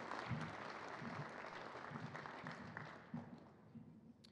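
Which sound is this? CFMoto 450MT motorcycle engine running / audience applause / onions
audience applause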